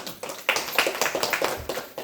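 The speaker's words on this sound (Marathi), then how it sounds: "चला टाळ्या वाजवा यांच्यासाठी." Scattered hand claps from a small audience, an uneven patter of applause rising and dipping over a couple of seconds.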